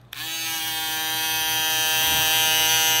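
A JVPro Shadow electric foil shaver switches on with a click and settles into a steady, loud, close-up motor buzz with a bright harmonic whine, running alone without any talk.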